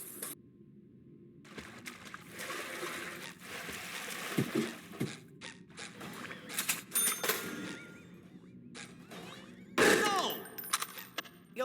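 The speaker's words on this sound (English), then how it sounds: "Watch me ride that horse, Hoover." Horse neighing and hoof clatter from a Half-Life 2 mod, with whinnies rising over shuffling game effects and a few sharp clangs, loud and close in short bursts.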